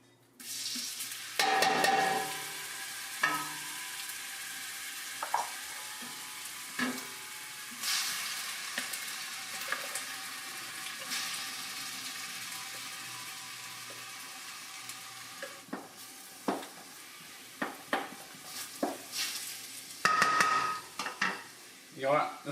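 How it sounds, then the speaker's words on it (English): Onions, celery and carrot fry in olive oil in a pot, a steady close sizzle broken by stirring scrapes and clinks of utensil against the pan, with a voice talking at times over the cooking. "as that olive oil is cooking those onions and those celery and the carrot"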